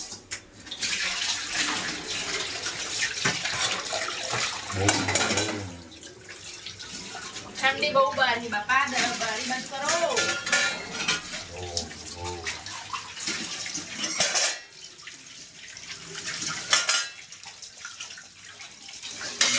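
Dishes are washed by hand under a running tap in a flat kitchen: water gushes and splashes near the microphone in uneven bursts, with occasional clinks, while people talk over it at times.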